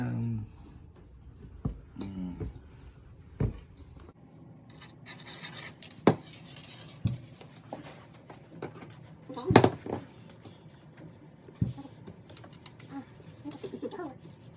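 A pan and dishes are handled in a home kitchen during country-style baking, giving scattered clanks and knocks of metal and crockery alongside rubbing and tapping, with people talking quietly in between.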